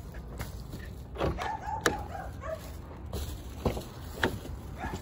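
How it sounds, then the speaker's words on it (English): A dog barks in a few sharp, separate bursts near a parked Dodge Charger Scat Pack 392 on 22-inch rims, with scuffing footsteps and faint whimpers in between, heard outdoors with no speech. "this dog is not gonna shut up."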